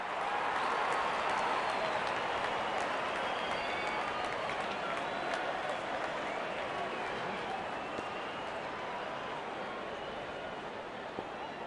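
A crowd in a cricket video game applauds a batter's fifty with a dense, steady roar of clapping and cheering that holds throughout, while a commentator talks over it.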